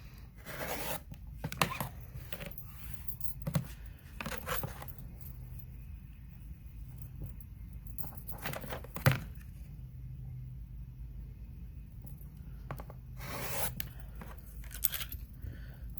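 Quilt fabric pieces being cut diagonally for a star block, quiet crisp snips and rustling handling in short bursts separated by pauses.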